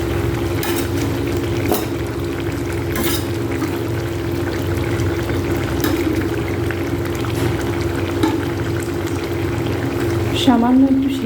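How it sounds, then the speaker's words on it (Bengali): Fried paneer cubes go into a boiling vegetable curry, with steady bubbling and sizzling at close range throughout, a few brief clatters, and a short voice near the end. "এবার ভেজে রাখা পনিরগুলো দিয়ে দেবো।"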